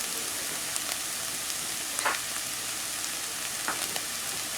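Cut vegetables sautéing in a pan as tomato sauce goes in for a meatless lasagna: a steady, even sizzle like light rain, with a few soft stirring taps, close and moderate, no voices.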